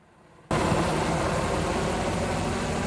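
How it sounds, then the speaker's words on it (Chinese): A helicopter circling overhead during a sea search for a man who rode a motorcycle into the water at Donggang fishing harbour, Pingtung, heard as a loud, steady broadband engine roar that starts abruptly and holds without talk. "直升机伫天顶巡"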